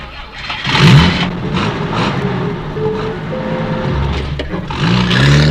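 A car engine starts and revs as the car drives off, a loud mid-pitched rumble that rises, holds steady, then swells again near the end.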